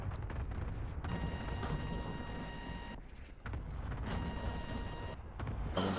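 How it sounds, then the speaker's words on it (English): Cluster strike explosions in Call of Duty: Modern Warfare come as distant, rumbling blasts. They roll on in a dense, low wash, briefly dip, and then surge again. "Enemy cluster strike incoming, take cover!"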